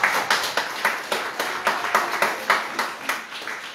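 A church congregation claps in acclamation of Jesus Christ, steady rhythmic hand claps of roughly three per second, many hands together in a moderately close, reverberant room.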